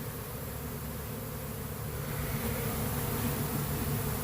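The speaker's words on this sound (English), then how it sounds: "Now the bees above us, they really have nowhere to go" A honeybee swarm in a bee yard hums as a dense, steady buzz of many insects, constant and fairly loud throughout, with no speech.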